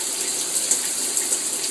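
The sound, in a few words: water running from a shower head onto a cat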